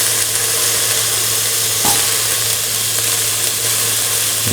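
Cauliflower fries in a pan with a loud, continuous sizzle and hiss nearby, broken once by a single brief knock of a utensil.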